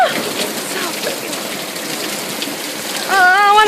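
Heavy rain pours down in a dense, loud, steady hiss of water, close and continuous, with a person's excited voice cutting in near the end.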